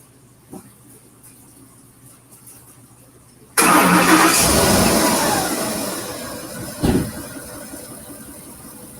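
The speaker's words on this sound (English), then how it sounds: "Let me get this car started." A 2010 Ford F-150 with the 5.4 engine cranks and catches abruptly after a quiet stretch, then settles into a loud, steady run with a brief surge partway through.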